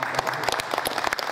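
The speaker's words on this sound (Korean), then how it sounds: "우리 한번 박수로 한번 환영해" An audience at the launch ceremony of a girl-statue (Statue of Peace) construction committee applauds to welcome the installation artist, with dense, close clapping sustained through the brief moment.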